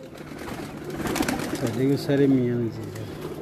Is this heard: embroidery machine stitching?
no